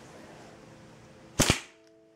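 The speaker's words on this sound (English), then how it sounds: "this is a deodorant can which I'm shooting at, and obviously it's empty because I don't want it to just blow up indoors." A steel ball bearing fired from a homemade slingshot strikes an empty deodorant can indoors with a single sharp, loud metallic crack. A quieter hiss comes before the impact, and a short ringing decay follows.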